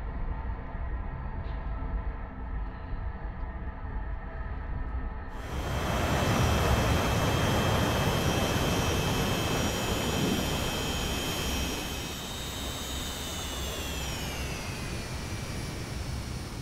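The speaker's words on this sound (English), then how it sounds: "and Halim rotated his aircraft down towards the earth and on course towards East Pakistan." A swept-wing Sabre jet fighter from the 1965 air war dives, its engine a loud, steady roar that swells and carries rising and falling whining tones, with no voices.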